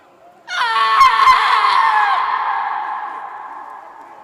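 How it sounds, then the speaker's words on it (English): Women crying out in a staged Macbeth scene, a sudden loud chorus of high wailing voices that swells in and slowly fades over several seconds, with two sharp knocks early on. "It was the cry of women,"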